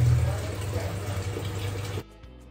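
Water pours from a tap into a pressure cooker of boiled potatoes to cool it, a steady close splashing rush that stops abruptly near the end.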